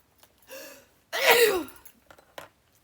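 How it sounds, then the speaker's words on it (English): A single sneeze from an adult woman who is sick with a cold, a short breathy intake followed by one loud burst, heard close and alone in a quiet room. "I got to sneeze."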